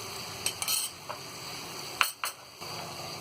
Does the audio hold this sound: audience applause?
no